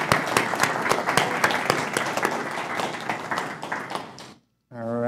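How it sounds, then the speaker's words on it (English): A conference audience at a San Francisco summit claps steadily for a speaker for about four seconds, the applause fairly close and dense before it stops and a voice begins. "Eddie, come on, give him a hand."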